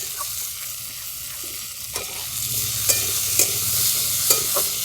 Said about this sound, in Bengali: কিছুক্ষণ পর ঢাকাটা খুলে নিচ্ছি, একটু নেড়ে দিচ্ছি।